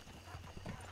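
Horse hooves clip-clop in Red Dead Redemption 2 in a quick, uneven run of soft thuds, set against a low background hum.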